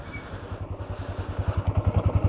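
A Royal Enfield Bullet 350 motorcycle on the move, its low thumping single-cylinder beat pulsing steadily and growing louder and more pronounced as the engine picks up.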